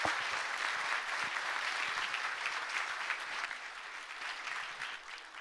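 A lecture audience at a 2016 talk in Busan gives sustained, even applause, a thick and moderately loud wash of many hands clapping that runs about five seconds, slowly tapering off.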